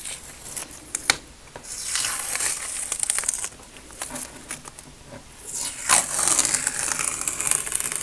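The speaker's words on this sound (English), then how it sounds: "always taking off the masking tape" Masking tape peeling away from a finished watercolor painting: a run of crinkly tearing and rubbing strips, close and fairly loud, with brief pauses between pulls.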